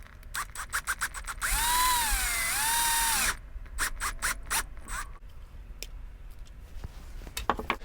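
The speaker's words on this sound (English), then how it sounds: "So I need to drill a hole in the middle to put the cable for the piezo." A power drill bores a hole through a laser-cut plywood guitar body for a piezo cable, giving a loud, steady whine that dips and rises in pitch for about two seconds, framed by sharp clicks and taps.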